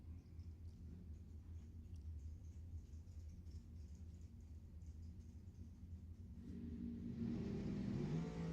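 Drag race between a dragster and a Chevy Cavalier at Lebanon Valley Dragway, with steady low engine rumble that swells louder and brighter near the end as the cars launch or pass close by.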